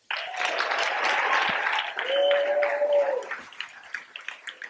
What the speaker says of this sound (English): please give a great round of applause to Coach Ferguson